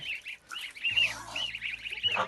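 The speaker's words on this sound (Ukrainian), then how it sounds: "Отакі наші гусики сусики" Kholmogory goslings and muscovy ducklings, about a week old, free-ranging outdoors, give repeated high peeping calls close by, with a low steady hum underneath in the second half.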